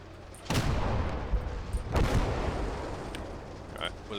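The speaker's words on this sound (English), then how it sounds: "we'll let the artillery finish its bombardment" Artillery bombardment in the World War II game Call to Arms: Gates of Hell, two heavy booming shell blasts about a second and a half apart, each trailing a long rumble, with fainter distant thuds after.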